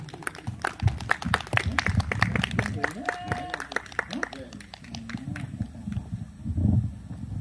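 Scattered, fairly faint hand claps from an audience at a Korean Jindo dog show. The claps are sharp and dense at first, then thin out, with talking in the background.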